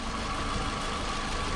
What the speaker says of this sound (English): here's a shot of the engine running